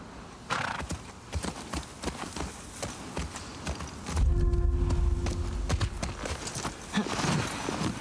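Horse hooves clip-clopping in The Last of Us Part II, steady walking steps near and clear, with a whinny and some louder rumbling in the middle section.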